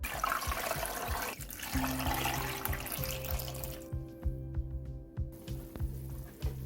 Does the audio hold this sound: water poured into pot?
yes